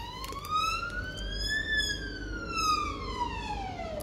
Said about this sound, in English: Sorry about the siren if you can hear it.